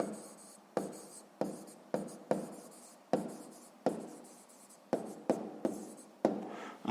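Handwriting on paper while working a math exercise, a series of about a dozen short pen strokes, each a crisp scratch that fades, close and quiet, no speech.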